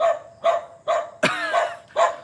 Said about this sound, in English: really frustrating with the dogs barking sometimes